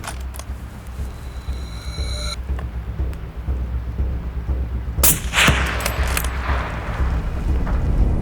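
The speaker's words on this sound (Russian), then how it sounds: "Пуля приходит в цель, но не останавливает сикача." A rifle shot at a wild boar during a mountain hunt cracks sharply once, then rolls away in a long echoing rumble across the slopes, loud and near against steady outdoor background noise.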